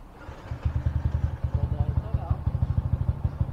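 A motorcycle engine thumps in a steady rapid rhythm while riding, the pulses close and moderately loud, with faint voices nearby.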